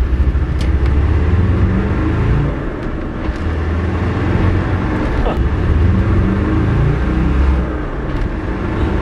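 A remapped stage 2 tuned Land Rover Defender engine pulls hard under acceleration, a loud, steady, close rumbling drone with rising revs running continuously throughout.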